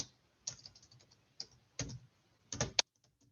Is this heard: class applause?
no